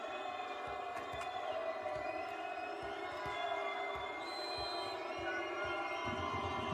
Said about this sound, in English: The crowd take it up another notch.